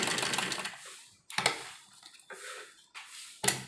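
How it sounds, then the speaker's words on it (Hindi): A sewing machine runs stitches over palazzo fabric in short bursts, about four runs separated by brief pauses, fairly close and moderately loud, with no voices. "तो कम से कम 6-7 सिलाई हमें इस तरीके से इसके ऊपर लगानी है।"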